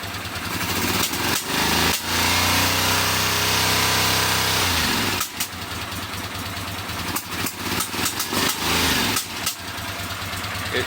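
Honda GL500 (CX500) motorcycle engine running close by, a loud steady idle that rises under throttle, then sharp blips and revs with abrupt dips and pops toward the end.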